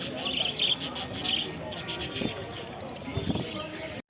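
Budgerigars and cockatiels chirp at a busy outdoor bird market, with bright tweets clustered early on over crowd noise and a voice talking nearby.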